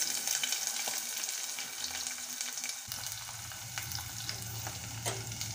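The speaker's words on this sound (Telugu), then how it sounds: "ఉల్లిపాయలు వేసుకొని కొద్దిగా మెత్తగా అయ్యే వరకు వేయించుకోవాలి" Chopped onions fry in hot oil with a few green chillies, a close, steady sizzle that grows thicker and louder partway through as more oil spatters, with no voices.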